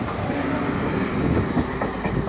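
An IC3 passenger train rolls past at Aarhus station with a steady rumble and rhythmic clickety-clack of wheels on the rails, no voices.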